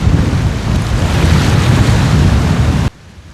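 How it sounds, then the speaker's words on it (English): A strong wind blows across the shore of Lago de Sanabria in Spain, a loud, roaring rush buffeting close with waves beneath it, then cutting off abruptly near the end. "It's quite a wind got up."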